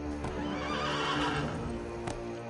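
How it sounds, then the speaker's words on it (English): A horse in Assassin's Creed Brotherhood gives a loud close neigh with a wavering whinny, while hooves clip-clop underneath in a steady rhythm. No one talks. "Alright, I'm just gonna take your horse. And I'll ride to my first place."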